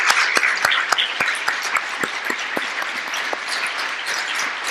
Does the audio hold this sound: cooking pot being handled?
no